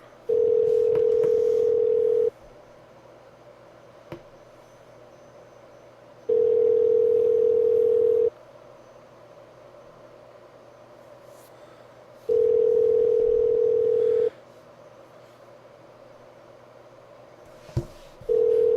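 Outgoing phone call ringing unanswered, three long steady ring tones about two seconds each, spaced by four-second silences, clear and alone.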